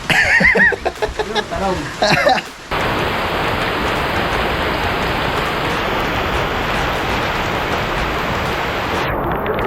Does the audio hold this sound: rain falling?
yes